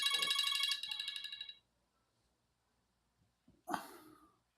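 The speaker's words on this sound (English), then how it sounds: "That's quite the ringtone there." A phone ringtone plays as a bright, rapidly pulsing electronic melody for about a second and a half, stops, then briefly sounds again after a pause.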